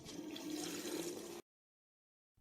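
Water pours steadily into a basin while pickles are being canned, a continuous splashing rush for about a second and a half that stops abruptly, followed by silence and a brief bump at the end.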